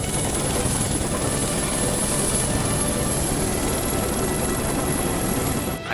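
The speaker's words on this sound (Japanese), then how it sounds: "ドミナント系無人戦闘機だ。" Unmanned combat aircraft in a sci-fi war film, a steady loud rotor-like engine roar with a high whine held continuously throughout, cutting off abruptly at the very end.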